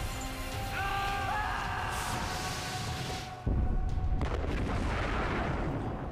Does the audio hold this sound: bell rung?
no